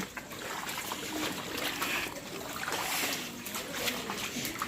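Feet wading slowly through shallow floodwater on a flooded village road in light rain, with soft trickling and splashing that swells and fades across the stretch.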